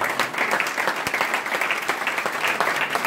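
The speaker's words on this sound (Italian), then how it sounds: "a cui dedicherei comunque un grande applauso" An audience at a provincial party congress gives sustained applause, a continuous dense patter of many hands clapping with a few sharper individual claps standing out, heard alone at moderate distance.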